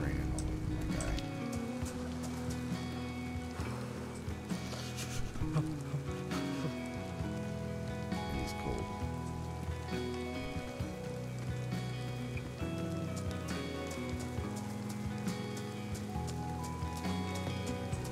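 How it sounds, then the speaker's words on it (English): Steady, even rain patter falling inside a video game, a continuous hiss layered under game music with tonal lines throughout. "so it's raining all over my guy"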